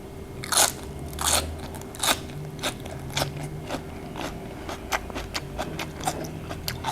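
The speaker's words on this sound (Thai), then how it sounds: "กรอบมาก" Crunchy biting and chewing of salmon som tam with pickled shallots, close to the mic: a series of sharp crisp crunches at a steady pace, fading into softer chewing crackles with no talking.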